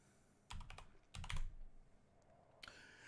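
Typing on a computer keyboard while entering a Java scanner input line, with two short bursts of rapid clicking keystrokes and a final brief flurry, close and fairly quiet with pauses between.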